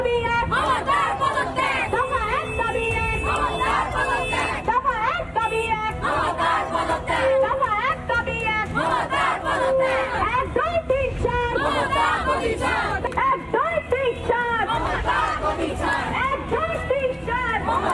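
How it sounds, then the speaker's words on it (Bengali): A large street protest crowd chants a slogan demanding Mamata Banerjee's resignation, many voices shouting together in rhythmic bursts amid babble, loud and close throughout. "দ্বিতীয় যে স্লোগান, সেই স্লোগান শুনবো।"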